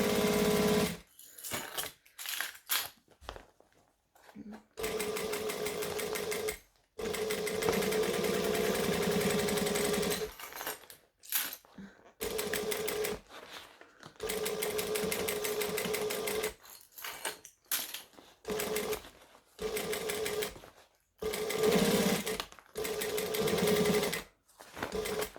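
A sewing machine stitches fabric together along a flat edge, running in steady bursts of motor whir and needle chatter, starting and stopping several times with short silent gaps and a back-stitch near the end.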